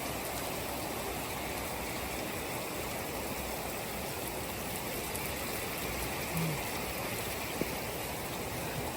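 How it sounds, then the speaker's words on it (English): Heavy tropical-storm rain pours down in a dense, constant hiss that fills the whole stretch evenly, with no voices and only a faint knock or two beneath the downpour. "The rain is coming down as fast as it's pouring out."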